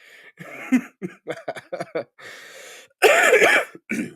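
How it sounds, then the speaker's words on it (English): A series of short coughs and throat clearing, close up, ending with a longer harsh cough burst. "Do still have a little bit of a cough, so my apologies if you hear me coughing"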